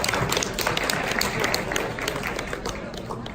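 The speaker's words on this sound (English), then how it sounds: "Everyone give her a round of applause." A small group gives a round of applause for a woman named Michelle, a steady wash of many claps blended with room noise, moderately loud and somewhat distant.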